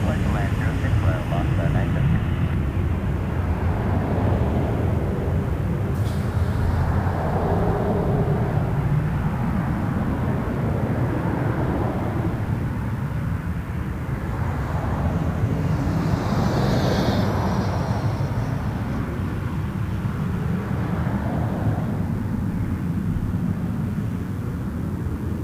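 AirSprint Cessna Citation business jet at Toronto Pearson, a steady broad engine roar that holds loud and continuous throughout, with faint radio chatter in the background.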